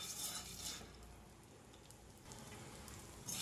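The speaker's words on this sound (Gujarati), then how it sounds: "જરાક જ ઘી મૂકીને એને આ રીતે ફૂલાવી લેવાનો છે." Edible gum frying in a little ghee as it puffs up: a steady, close crackling sizzle that holds throughout, rising in brief bursts near the start and end, with no talk.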